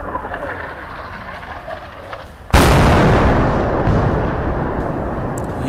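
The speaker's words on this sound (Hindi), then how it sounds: "मोटार शेल ऐसे आवाज़ से ऐसे लगता है जैसे मोटार शेल पाकिस्तान की तरफ से छोड़े" Mortar shell explosion on the India-Pakistan border near Poonch, a single sudden loud boom cutting through background noise, followed by a long rolling rumble that slowly fades.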